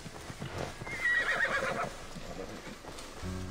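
Horses in Immortals Fenyx Rising whinny loudly in the middle of the scene, with soft hoof clip-clops before and after and quiet game ambience throughout.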